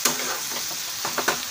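Slit green chillies frying and being stirred in a pan for a traditional Bengali dish, a steady close sizzle with a few sharper scraping stir sounds near the end, no voices.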